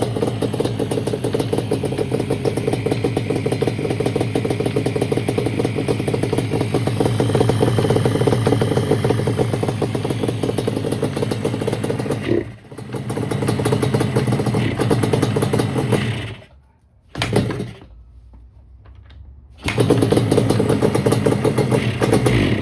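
A barn-find Yamaha Banshee two-stroke ATV engine that keeps dying on throttle runs steadily and loudly with a rattling idle, sputters and nearly dies twice near the end, then catches again.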